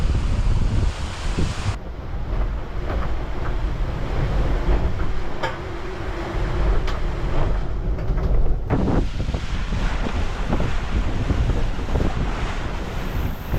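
A racing sailboat pushing through strong ocean wind and waves, with steady heavy wind roar on the microphone, rushing water and occasional thumps against the hull.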